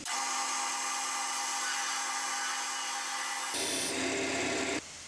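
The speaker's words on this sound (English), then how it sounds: "Now I'll use the parting tool to part off the spinning top." A lathe parting tool cuts through a spinning wooden top to separate it, a steady loud high whine of the turning lathe and cutting that shifts in tone near the end as the piece parts off.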